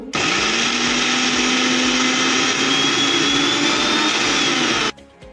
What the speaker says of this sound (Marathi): चटणी मिक्सरमधून काढून घेऊ